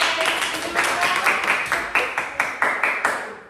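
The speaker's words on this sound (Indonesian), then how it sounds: "Oke, berikan tepuk tangan." Students clap in a classroom, a quick run of about a dozen sharp, fairly close hand claps in a steady rhythm with faint voices underneath.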